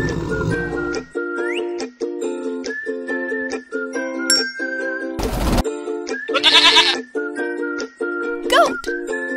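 A cartoon goat bleats once in a kids' animal puzzle game. The short, bright cry sits over a cheerful looping tune with clicks and a brief burst of noise.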